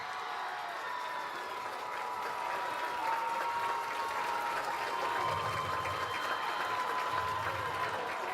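Crowd applause in the stands at a Piqua High School homecoming football game against Fairborn, honoring the homecoming queen: a steady, dense wash of clapping sustained through the whole stretch, fairly distant and even in loudness.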